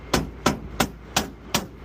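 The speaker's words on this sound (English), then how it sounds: "Yeah, I got a hammer." A hammer strikes five sharp, evenly spaced blows, close and loud with quiet gaps between, during a commercial rooftop HVAC unit swap.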